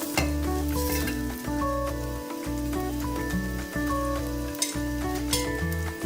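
Chopped onions fry in about two tablespoons of hot oil over medium heat, the first step of a North Bengal potato curry. A continuous close sizzle with crackles runs under steady background music.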